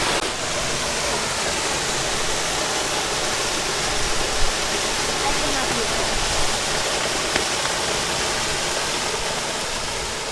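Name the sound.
small waterfall, Kimberley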